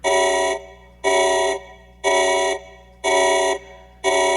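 An alarm from a guess-the-alarm game, presumably the smoke alarm, sounds five times as loud, harsh electronic buzz-horn blasts, each about half a second long, separated by even gaps of silence, with no talking.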